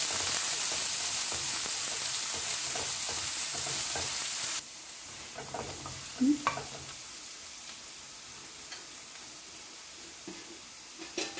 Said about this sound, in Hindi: प्याज डालेंगे एक बड़ा चम्मच प्याज को भी थोड़ा सेक लेते हैं